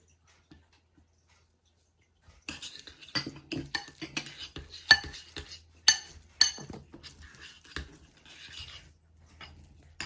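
Avocado paratha dough is mixed with minced garlic and dried coriander leaves, giving irregular clinks and scrapes of a utensil against a bowl. The sounds are close and fairly quiet, and no one speaks.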